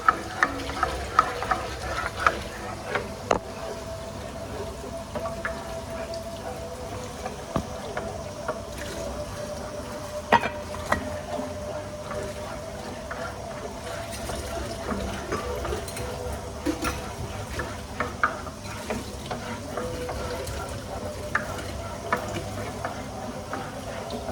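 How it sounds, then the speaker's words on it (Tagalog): A pot of gulaman is stirred without stopping until it boils, giving steady scraping and sloshing with occasional sharper knocks of the spoon, fairly quiet and continuous. "Wala siyang tigil na halo guys hanggang kumulo."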